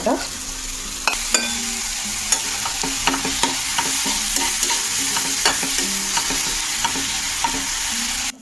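A spoon stirs and scrapes ingredients roasting in a pan with oil for Kolhapuri misal, with repeated sharp clicks of metal on the pan over a steady sizzle that runs throughout.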